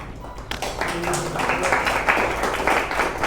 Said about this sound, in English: Hold your applause, I'm not done yet.